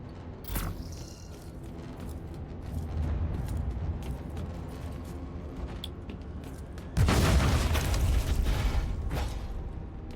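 A grenade explodes in a video game, a sudden loud booming burst with a rumbling tail after a stretch of quieter gameplay noise and a faint earlier thump.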